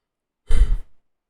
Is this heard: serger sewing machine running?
no